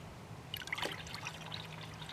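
A small stream of water trickles into a gold panning tub of paydirt mixed with dishwasher solution, a soft, steady splashing dribble at close range lasting a couple of seconds with no talk.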